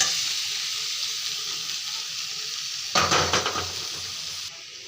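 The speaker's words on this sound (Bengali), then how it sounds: "ওই মাংসটা এখন দিয়ে দেবো আমি।" Fried spices sizzle steadily in a pan, then meat goes in and the hiss flares up loudly with stirring and scraping before settling back to a softer fry.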